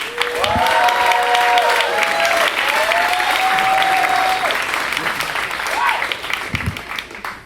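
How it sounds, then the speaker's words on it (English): Sustained applause from a large audience for a comedian, steady and loud throughout, with a few scattered whistles and cheers rising above the clapping. "Keep that applause going"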